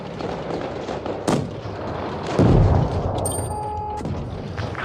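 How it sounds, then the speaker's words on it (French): A StuG tank gun fires in the World of Tanks Blitz game, one loud booming shot with a deep rumble, followed by mechanical clanks and ongoing game noise. "Le Stug a tiré, on va y aller."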